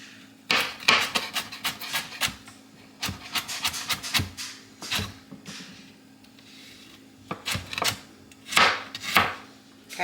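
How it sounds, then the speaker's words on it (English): A kitchen knife chops vegetable sticks into small pieces for broccoli cheddar soup, with bursts of close, sharp, rapid knocks on a board separated by short pauses. "I'm going to just cut them in sticks. And then I'm going to chop them up small"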